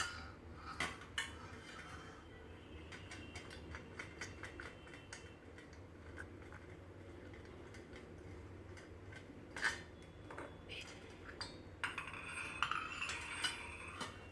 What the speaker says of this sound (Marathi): हे इडलीचे मोल्ड आता मी ग्रीस करून घेणार आहे तेलाने